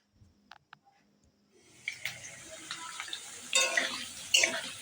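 Fritters (bora) frying in hot oil: soft crackling sizzle that starts after a few quiet clicks and builds steadily, with brighter spattering bursts near the end.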